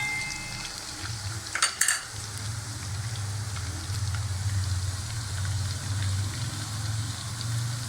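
Garlic and carrots fry lightly in a pan for Chinese fried rice, a steady close sizzle running throughout, broken by a couple of sharp clanks of utensils near the start.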